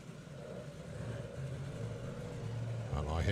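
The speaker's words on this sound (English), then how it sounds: "And I hear two engines." Drag racing engines at the Mopar Euro Nationals, including a Daimler-powered dragster, rumbling in the background at a distance, a steady low drone that builds and swells louder toward the end.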